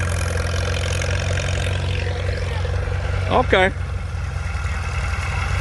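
An antique Massey 35 Deluxe tractor engine idles steadily with a low rumbling chug throughout at a plow day, while a voice briefly speaks over it.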